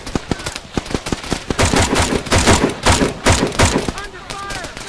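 A heavy machine gun in the ARMA 3 military game fires rapid, loud bursts, with dense repeated shots throughout and other gunfire mixed in, while a voice speaks over the battle.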